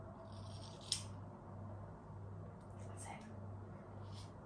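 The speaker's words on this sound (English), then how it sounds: "Are you cutting plenty off, Heidi?" Scissors snipping at a man's hair during an at-home haircut, a few faint short crisp cuts against a low steady hum, with speech in the room around them.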